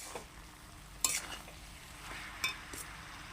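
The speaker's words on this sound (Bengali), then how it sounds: "এবার আমি মোচাটা দিয়ে দেবো দিয়ে এবার একটু নাড়বো ভালো করে" Banana flower is stirred into a fried spice mix in a pan, a soft continuous sizzle punctuated by a few sharp metallic clinks and scrapes of a spoon against the pan, quiet and close.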